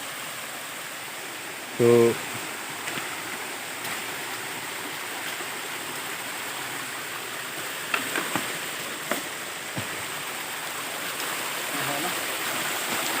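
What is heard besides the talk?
water pouring onto rock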